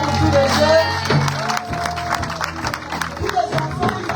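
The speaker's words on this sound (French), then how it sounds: "Est-ce qu'on peut applaudir pour tous les jeunes?" An audience at a children's gift-giving gathering applauds the young people. Scattered clapping and a few cheers rise from the crowd, with voices talking over them.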